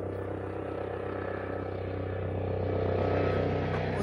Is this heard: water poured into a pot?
no